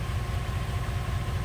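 A Sanden engine-driven onboard compressor runs at idle, a steady low mechanical hum and throb with faint rattling vibration, continuous and close.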